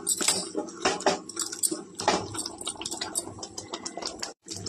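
Dal with chopped green chilli and turmeric being stirred and mashed in a pot for a Bengali mulo dal: wet scraping, clinking utensil strikes and splashy churning in quick, uneven strokes, close and fairly loud.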